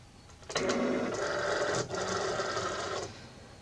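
A Cricut cutting machine pulls its mat in with a steady, close motor whir lasting about two and a half seconds, dipping briefly in the middle before running on and stopping.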